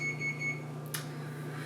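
A kitchen timer beeps in a steady repeating pattern of short tones, moderately loud in a home kitchen, followed by a brief rustle and then quiet room tone.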